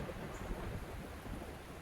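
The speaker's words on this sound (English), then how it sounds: "starting to rain, so a little muddy mess." Soft, steady patter of rain starting to fall outdoors in a garden by a greenhouse, a continuous diffuse hiss with low rumble and no voices.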